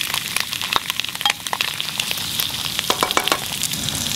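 Chili bamboo shoots sizzle in a hot stir fry for a Hmong bean thread noodle dish, a steady loud crackling hiss with frequent sharp pops and spits throughout, no voices.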